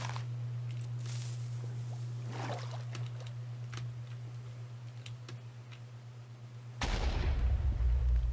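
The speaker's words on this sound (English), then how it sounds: "Much bigger explosion." A Minecraft vaporization TNT block detonates by the ocean, a sudden loud, booming blast that follows a stretch of quiet clicking and lingers as a heavy rumble.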